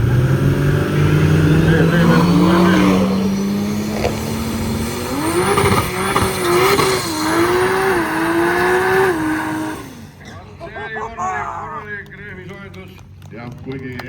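A drag racing car fitted with a BMW engine at an Estonian drag race, its engine note rising steadily as it accelerates hard and close, then dropping away after about ten seconds, with crowd and commentary noise underneath.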